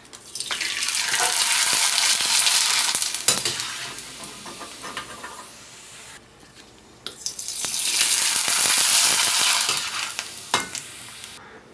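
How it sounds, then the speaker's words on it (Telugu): Sun-dried rice vadiyalu crisps fry in hot oil, a loud close sizzling hiss that swells, eases, then surges again, with light stirring clinks and taps scattered throughout. "దీంట్లో ఇప్పుడు ఈ వడియాలు వేసి వేయించుకుందాం"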